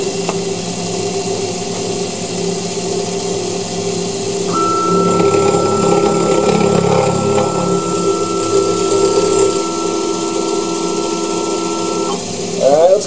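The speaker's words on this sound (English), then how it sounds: "let's try fly cutting." A MaxNC mill spinning at about 2,000 RPM drones and whines steadily as a fly cutter faces metal at 20 inches per minute. A sustained cutting tone rises partway through over the constant motor noise.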